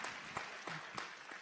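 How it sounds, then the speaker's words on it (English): Faint, thin applause from a town hall audience in Delaware for Chris, a soft continuous patter with a few sharper claps, heard from a distance for about a second and a half. "Give Chris a round of applause."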